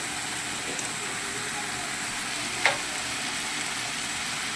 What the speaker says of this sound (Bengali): তেল গরম হয়ে গেছে, আমি এখানে আলু পেঁয়াজ দিয়ে দিয়েছি